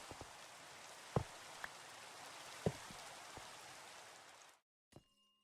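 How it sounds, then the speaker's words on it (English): Steady hiss of rain falling in a video game, with a few sharp droplet ticks standing out over the even patter before it cuts off to near silence. "Hey, it's raining."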